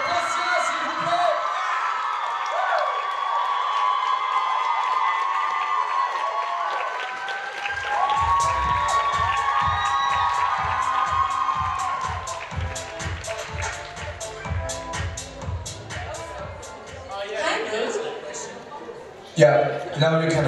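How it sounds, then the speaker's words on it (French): Convention panel audience applauding and cheering for actors on stage: broad crowd clapping with whoops, building into rhythmic rapid clapping midway, with a voice speaking over it near the end. "Je vous demande de faire un applaudissement!"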